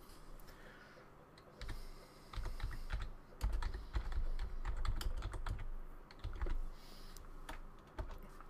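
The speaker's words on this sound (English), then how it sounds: "Just type ESET online scan" Computer keyboard typing while entering a search for an online malware scan, with irregular clusters of crisp clicks and keystrokes, close and fairly quiet, alone with no voices.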